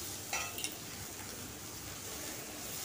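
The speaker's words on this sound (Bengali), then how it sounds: "এরপর খুব ভালো করে তেলের সঙ্গে মিশিয়ে একটু কাঁচা গন্ধটা চলে যাওয়া পর্যন্ত ভেজে নেব।" Vegetables and green chili fry in oil in a pan, giving a steady soft sizzle throughout with a couple of brief stirring clinks near the start.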